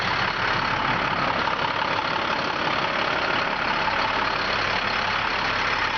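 An automatic grain truck engine idles with a steady, dense, unbroken drone throughout, fairly loud and close, with no voices.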